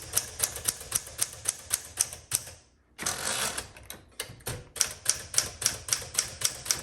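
Keys of a 1961 Smith Corona Sterling manual typewriter strike in a steady, close rhythm of sharp clacks, broken by a brief pause and a rougher burst of mechanical clatter before the even typing resumes.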